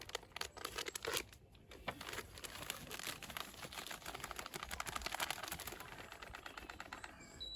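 A bag of Method Match Dark fishing groundbait crinkles and rustles up close as it is torn open and tipped out, a dense run of crackling plastic and pattering crumbs throughout.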